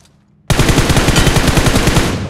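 Rapid automatic gunfire in PUBG Mobile bursts in loud and close after a half-second of quiet, then rattles on in a steady, even stream of shots to the end.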